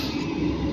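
A steady, close rumble and rattle inside a moving passenger train carriage on the night Blitar–Kertosono line in Indonesia, an even drone with no voices heard.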